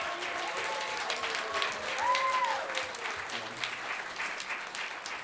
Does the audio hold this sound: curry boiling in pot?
no